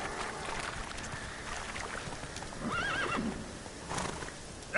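Roach, a horse in The Witcher 3, gallops with a soft clip-clop of hooves under wind, then gives a clear whinny partway through and snorts again near the end.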